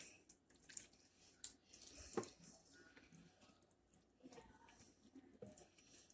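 Soy sauce, oyster sauce and chicken broth being stirred together, giving faint, wet squishing and soft dripping in irregular bursts, quiet and close with a few sharper clicks.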